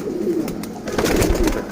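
Female pigeons in a loft coo loudly and close by, low throaty warbling calls overlapping in a continuous murmur, with rustling and shuffling.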